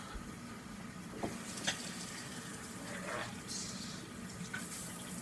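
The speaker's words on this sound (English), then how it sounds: "I'm going to take this out and rinse it off" Running tap water pours steadily in a kitchen sink while something is rinsed under it, a faint continuous splashing stream with a few small clunks.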